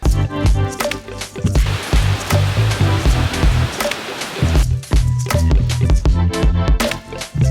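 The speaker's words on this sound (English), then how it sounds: "we have water in our dry creek. Trying to walk down here. Not a whole lot, but it is flowing" After about fifteen minutes of very hard rain, water rushes through a normally dry creek, a steady loud close-up wash and gurgle that runs continuously with no voices.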